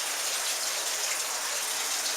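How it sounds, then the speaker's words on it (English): Water gushing from a valve into a row of home aquarium fish tanks, a steady hissing, bubbling rush heard close and alone for a couple of seconds. "I've got water coming in from that valve there"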